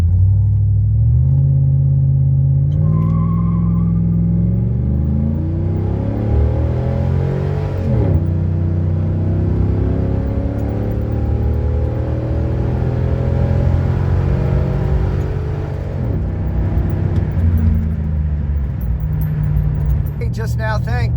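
A 2005 Chevy Silverado pickup with a 4.10 rear gear launches hard, its engine climbing loudly and close through the revs, dropping at two gear shifts and pulling up again each time.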